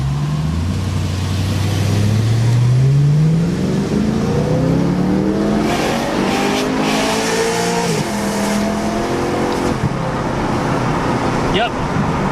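BMW E92 M3 exhaust roaring under acceleration through a 35 mph zone, engine note climbing in pitch, easing off and rising again, loud and close with road noise and brief talk mixed in.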